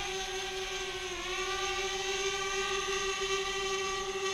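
A DJI Spark drone's motors whine as it descends to land, a steady, close, high-pitched buzzing hum that drops slightly in pitch partway through, with no talk.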